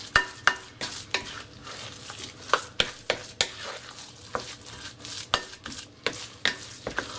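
A pot of Kasaba Dokoeng being stirred, a spoon scraping and knocking the pot in a steady rhythm of sharp clacks over a continuous frying sizzle, close and fairly loud.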